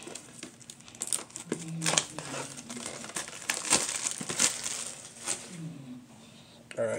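Plastic wrap crinkles and tears as it is cut and peeled off a Hidden Fates collector tin, close and busy with sharp rustling bursts throughout, under occasional talk.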